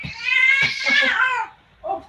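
A stressed cat lets out a loud, drawn-out, strained meow, then a short, fainter cry after a brief pause, close by.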